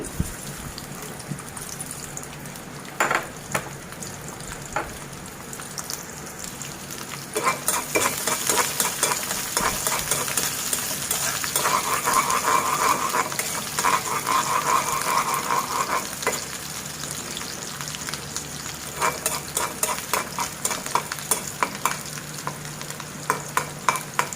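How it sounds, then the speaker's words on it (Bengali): Three cloves of cut garlic fry in a little oil as a tempering for jolpai (olive) sour. A continuous close sizzle crackles and intensifies midway, with scattered spatters and stirring scrapes throughout. "এখন আমি টকটাকে রসুন দিয়ে বাগার দিয়ে নিব।"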